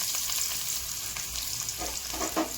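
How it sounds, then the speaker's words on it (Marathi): Chopped onion frying in hot oil with crackling mustard seeds for a home-style brinjal, potato and chickpea vegetable dish, giving a steady, fairly quiet sizzle with occasional soft pops and stirring sounds. "आता कांदा टाकून घेते."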